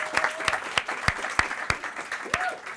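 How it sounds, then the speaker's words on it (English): An audience at an improv comedy show claps in a short burst of applause, sharp, individual claps ringing out at a moderate distance with a light crowd murmur beneath. "Let's give a round of applause for Yeah. Frito and Anna."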